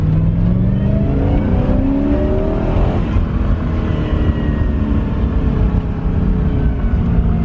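A V8-swapped Porsche 944 Turbo accelerates hard, its engine rising in pitch through the gears with a steady loud rumble and whine, heard from inside the car with no talking.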